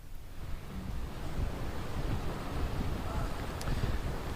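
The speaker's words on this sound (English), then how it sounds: "It is difficult to hear you because of the winds" Strong hurricane winds buffet a reporter's phone line, a loud, continuous rushing roar of wind noise that masks everything else.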